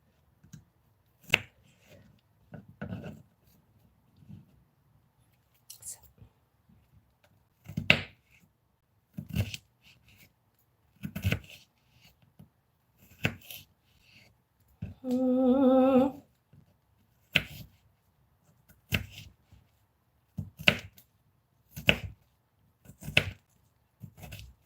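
A knife cuts egg roll fillings into thin julienne strips on a board, a slow, irregular series of separate crisp chops with quiet gaps between them and one longer scraping stroke midway, close up.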